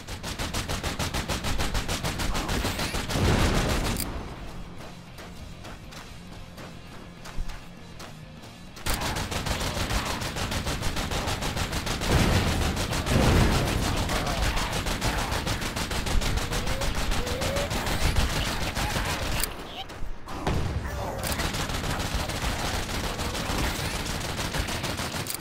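Nonstop loud gunfire from the twin-stick shooter Vicious Attack Llamas roars as dense machine-gun fire, with two short lulls and otherwise an unbroken, close barrage.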